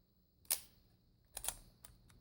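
The shutter of a Kodak Instamatic 126 film camera is pressed with a few crisp mechanical clicks, one sharp snap followed by a softer double click and a faint final tick, in a quiet room.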